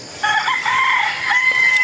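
A rooster crows loudly and close by, a sustained cock-a-doodle-doo call held for nearly two seconds with no talking over it.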